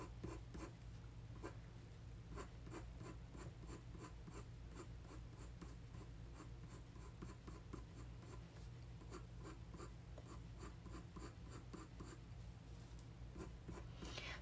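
A colored pencil scratches across paper in quick, evenly repeated strokes, a close, quiet rasping rhythm over a low background hum without talk.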